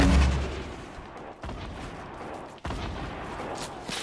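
Gunfire in a Fortnite Battle Royale match, a heavy opening blast followed by sharp shots that cut into a dense, rumbling field of game noise.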